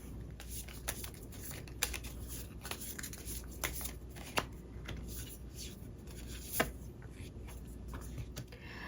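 Tarot cards being shuffled by hand during a reading, soft papery riffles and light slaps in an uneven rhythm, quiet and close, with a few sharper taps standing out and no talking.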